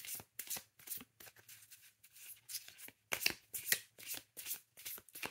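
Lenormand oracle cards are shuffled by hand in quick repeated riffles and slides, crisp and close, with brief pauses between bursts.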